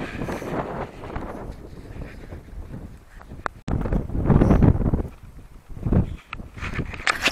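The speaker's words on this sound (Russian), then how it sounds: "вот и ветруган здесь сильный" Strong, gusty wind buffets the microphone outdoors during a bicycle trip through the Novocheboksarsk and Marposad areas of Chuvashia: a continuous low roar that surges louder midway, with no clear voices.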